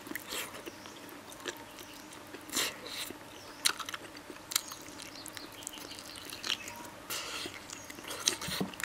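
Braised bamboo shoots are bitten and chewed with crisp, crunchy bites, several sharp crunches spaced irregularly and close to the mic, with wet chewing in between, heard alone.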